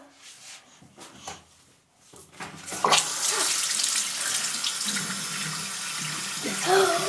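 A tap starts running at a sink as makeup is washed off, a steady close gush of water that continues to the end after a few seconds of quieter movement and faint voices.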